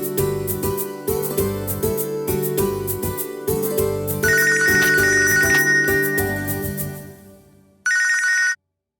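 A telephone ringtone plays loud and close in a home scene, a repeating melodic ring pattern with short pauses between bursts, ending with a brief high chirp before silence.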